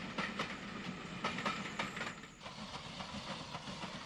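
A GNR U-class 4-4-0 steam locomotive built by Beyer Peacock in 1948 hauls a train in 1950s Ireland, with a continuous rumble, rhythmic clickety-clack, and hissing steam throughout.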